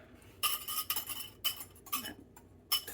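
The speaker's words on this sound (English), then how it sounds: "we're gonna whisk in our yolks" A metal whisk clinks against a bowl while egg yolks are beaten into flourless chocolate cake batter, with several short bursts of rapid rattling separated by brief pauses.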